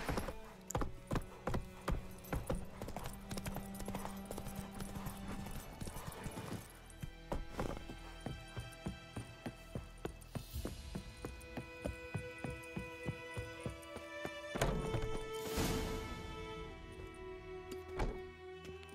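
Roach, a horse in The Witcher 3, gallops with a quick, steady run of clip-clop hoofbeats over a soft game ambience, fairly faint and continuous.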